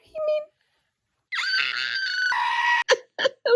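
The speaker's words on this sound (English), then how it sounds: "I'm screaming." A person screams with excitement in a high, sustained burst after a short vocal sound, followed by a few quick, shorter cries.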